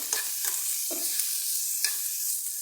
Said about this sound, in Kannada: ಹಸಿಮೆಣಸಿನ್ಕಾಯಿ ಆಮೇಲೆ ಒಂದೆರಡು ಬೆಳ್ಳುಳ್ಳಿ ಹುಣಸೆ ಹಣ್ಣು ಚೆನ್ನಾಗಿ ಹುರ್ಕೊಂಡ್ಬಿಡಿ